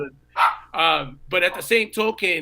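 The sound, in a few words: dog barking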